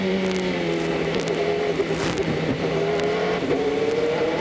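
Race car at the 2001 IMSA Grand Prix of Mid-Ohio accelerating hard out of a corner, a loud sustained engine whine climbing steadily in pitch with a dense buzzing roar and no break throughout.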